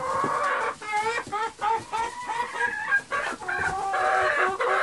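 Hens in a backyard chicken coop cluck and cackle steadily, loud and close, with overlapping calls and a few drawn-out notes throughout.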